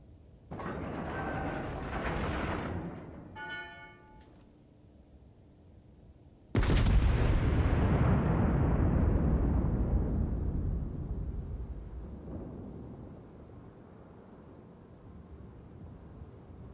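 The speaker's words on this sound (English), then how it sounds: "There we go, got some plunging fire there." A heavy naval gun salvo from the Soviet Tier 3 premium cruiser Varyag in World of Warships: a sudden loud boom with a long rumbling decay, preceded by quieter engine rumble and brief beeping tones.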